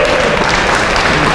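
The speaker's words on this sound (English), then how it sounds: "Can you guys give them a round of applause?" A burst of steady applause from a crowd at a graduation ceremony, dense clapping filling the whole moment without pause.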